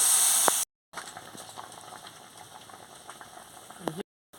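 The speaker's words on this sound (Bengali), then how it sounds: "এবার আমার ফুটে গেছে" A pot of snail curry with vegetables and water bubbles on the stove, a close, steady simmering fizz with small pops and brief pauses, plus faint clinks.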